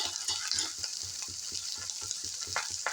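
Pav bhaji vegetables with chutney and turmeric sizzle and fry steadily in a hot pan, with a regular scraping stir of the spatula repeating through the sizzle.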